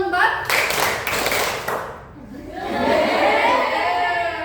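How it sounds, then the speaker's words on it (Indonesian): A class of children clapping a counted pattern in a sixth-grade classroom, with bursts of group claps early on, then a lull and a rising wash of children's voices and crowd noise. "Tepuk 1, tepuk 2, tepuk 3, tepuk 4"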